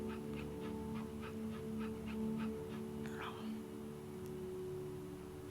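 A small dog gives soft, faint whimpers in a quick series, heard under a steady low hum with a brief voice in the background.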